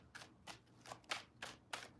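Tarot cards shuffled by hand in five quick, crisp riffling bursts spaced about a third of a second apart, close and fairly quiet, with no talking.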